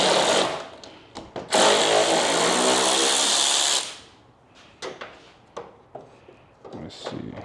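A power ratchet removing fog light bolts during a headlight and fog light installation on a car, whirring loudly in one sustained burst of about two seconds, close up, followed by quieter clicks and clatter of tools and parts.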